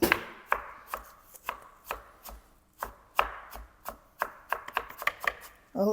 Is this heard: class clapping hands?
no